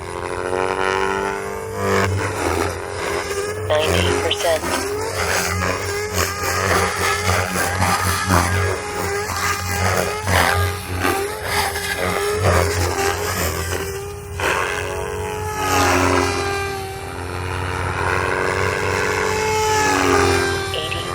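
An RC helicopter with 380-size RotorTech 385 blades spins at about 3,000 RPM, giving a loud, continuous whining drone whose pitch wavers and surges for the whole stretch, with no talking.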